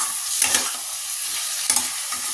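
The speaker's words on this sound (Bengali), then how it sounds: "এই সময় চিকেনগুলো দিয়ে দেবো। ব্যাস, এইবার শুধু কষে যাবে" Chicken pieces stir-frying in spiced oil hiss with a steady sizzle, broken by a couple of sharp scraping stirs of a spatula against the pan.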